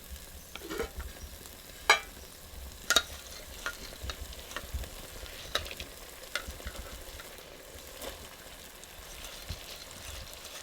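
Fenugreek seeds go into a pan and are stirred, giving a soft low sizzle with a few sharp clinks and scrapes of the spoon scattered through a quiet background.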